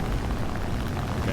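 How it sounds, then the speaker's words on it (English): In War Thunder, a shot-down aircraft explodes: a short, dense, low rumbling burst, fairly quiet and heard alone. "Okay, exploded."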